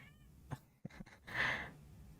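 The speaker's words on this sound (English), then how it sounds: "You can hear my cat." A pet cat gives a short, close meow after a few soft clicks and throat-like sounds, a single brief high cry lasting under a second in a quiet room.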